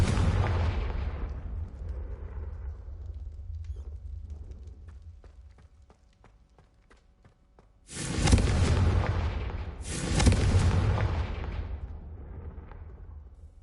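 Two loud booming blasts from the Confringo spell in the Hogwarts Legacy video game burst out in close succession after a quieter stretch, each a broad explosive crack with a rumbling tail.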